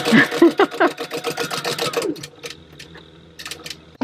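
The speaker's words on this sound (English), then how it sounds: "take it back to the sewing machine" A sewing machine stitching a wallet runs in a fast, steady mechanical patter for about two seconds, then stops, leaving quiet clicks and faint background noise.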